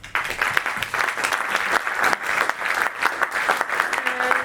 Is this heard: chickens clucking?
no